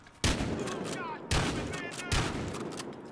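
Three loud, sharp shots a little over a second apart from a KSG shotgun loaded with slug rounds and fitted with a 4x scope, used for sniping in an online shooter, each blast trailing off in echo with faint voices between.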